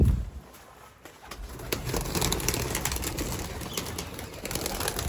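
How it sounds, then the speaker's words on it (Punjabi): Pigeons coo nearby on a house rooftop amid a busy outdoor backdrop, with occasional sharp flutters of wings breaking through. "ਦੇਖਿਓ ਕਿੱਦਾਂ ਕਬੂਤਰ ਆਂਦੇ ਬਾਹਰ ਅੱਜ ਭੁੱਖੇ ਆ ਵਿਚਾਰੇ"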